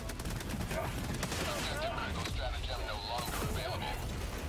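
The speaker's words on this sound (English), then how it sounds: "That's a mortar." Mortar strikes landing in the co-op shooter video game Helldivers 2, a dense, continuous rumble of blasts and debris under players talking over voice chat.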